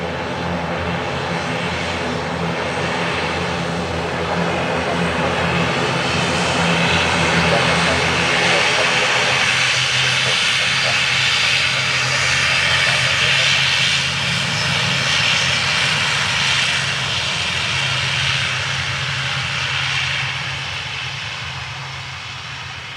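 Steady, loud roar of an airliner landing at Dublin Airport, sustained jet-engine rumble and whine that holds for about twenty seconds before easing off, with radio chatter from air traffic control underneath.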